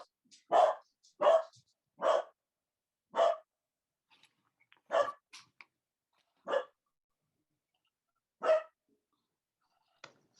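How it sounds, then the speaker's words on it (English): A dog barks about eight times in separate single woofs spread over ten seconds, fairly close and clear, with silence between barks, heard during a virtual city commission meeting. "Sounds like the dog's got a question."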